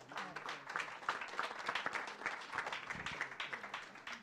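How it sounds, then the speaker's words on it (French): An audience applauds prize winners at an agricultural innovation awards ceremony in Vendée, with dense, sustained clapping that holds steady for several seconds. "On peut les applaudir."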